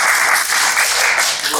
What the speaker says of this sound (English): So everybody please give a nice big round of applause for Aaron Tang